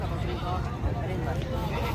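Goats bleat at a busy livestock market in Mohammad Pur, with steady crowd chatter and nearby voices throughout and animal calls mixed into the dense background noise.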